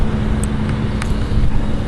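A 1992 Buick Regal Custom's 3.1-liter 60-degree overhead-valve V6 runs close by with a steady, even low rumble and no other sounds.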